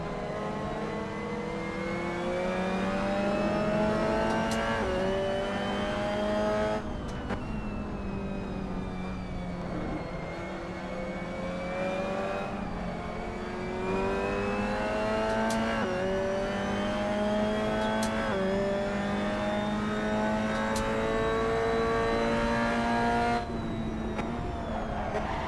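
Fiat 126 Sport mod engine in the racing game Assetto Corsa, a loud continuous buzzing drone with rising and falling revs and repeated gear changes, brakes locking up at points, with no voices.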